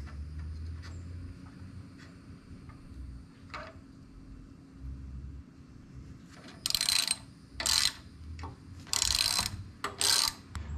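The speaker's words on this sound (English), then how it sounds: "And then reinsert the new bolt." A new shifter pivot bolt being threaded back into an Aprilia Tuareg 660 motorcycle, heard as close ratcheting bursts from a hand tool in short repeated strokes over a low background hum.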